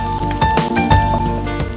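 Capsicum and carrot pieces sizzle in a salted pan, giving a steady close crackle with a few soft stirring scrapes and no talking.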